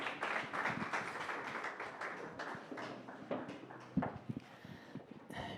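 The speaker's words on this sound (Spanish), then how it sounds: "Los invitamos con un fuerte aplauso a Helga Velasco" Audience applause welcoming three panelists to a forum on journalism, disinformation and citizenship, a dense patter of many hands clapping steadily throughout and fading slightly toward the end, with a few louder individual claps standing out.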